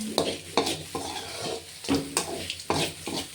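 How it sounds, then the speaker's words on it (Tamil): Beetroot stir-fry with grated coconut and peanuts being stirred in a pan, a spoon scraping and clinking in repeated strokes over a soft sizzle, close and moderately loud with no talking. "கடலையோடு சேர்த்து தேங்காய் பூ பீட்ரூட்டு நல்லா கிளறி விட்டுர்லாங்க"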